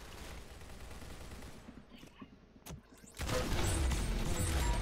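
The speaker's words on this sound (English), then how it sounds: "Let's start shooting." Gunfire in the Roblox Arsenal video game: sharp bursts of rapid shots crackle in the first seconds, a lull with a couple of isolated cracks follows, then a dense, louder stretch of continuous firing and game noise.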